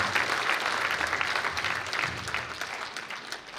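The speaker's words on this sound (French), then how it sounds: "Et vous pouvez les applaudir." Audience applauding young amateur artists at a town New Year's greetings event, thick continuous clapping that stays loud and close throughout, slightly easing toward the end.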